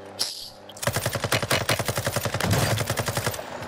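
Rapid automatic gunfire in the video game Call of Duty: Warzone, a sharp opening shot followed by a long rhythmic burst of loud close rounds with no talk over it.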